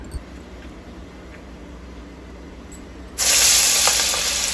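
Spinach vadai (keerai vadai) dropped into hot oil over a medium flame, with a low steady background that jumps after about three seconds into a loud, bright, continuous sizzle and hiss that carries on to the end.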